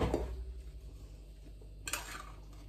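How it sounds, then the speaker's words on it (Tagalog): Sausage stew is stirred in a pot, with soft utensil scrapes and a clink or two against the metal, faint and close. "Haluin natin. Ayan, haluin natin ngayon."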